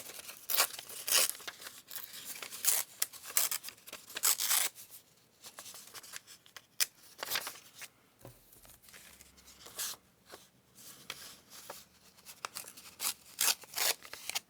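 Scissors snip and trim scrap paper for a botanical junk journal collage, the paper crinkling and rustling between cuts; bursts of close, crisp snips come in irregular clusters over a quiet room.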